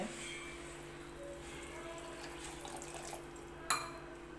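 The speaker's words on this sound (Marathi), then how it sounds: "हे गरम पाणी आता मी घेतलं" Hot water is poured while cooking a black-eyed bean curry, a faint, steady watery rush with a single sharp clink near the end.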